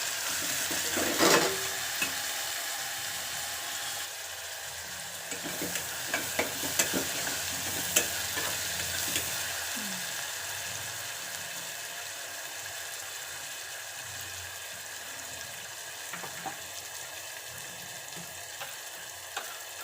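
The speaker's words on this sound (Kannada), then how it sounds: "ಸ್ವಲ್ಪ ಕರಿಬೇವು ಸ್ವಲ್ಪ ಜಾಸ್ತಿ ಆಗೋವರೆಗೂ ಟೊಮೊಟೊನ ಸ್ವಲ್ಪ ಫ್ರೈ ಮಾಡಿಬಿಟ್ಟು" Tomato frying with curry leaves in a pan, a steady close sizzle running throughout with scattered scraping stirs of a spoon.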